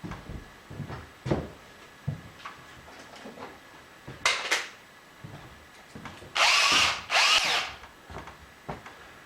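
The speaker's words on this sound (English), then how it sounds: "we're gonna go ahead and see what we can do about drilling those out" A power drill works on belt disc sander parts during a rebuild, with short bursts of whirring and two longer, louder runs near the end, separated by quiet handling noises.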